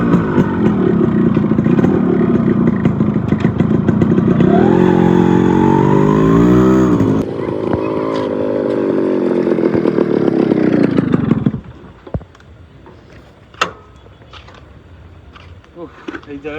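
A motorcycle carrying two riders drones loudly with a buzzing engine whose pitch rises and shifts, then cuts out abruptly, leaving quiet outdoor ambience with a few sharp knocks.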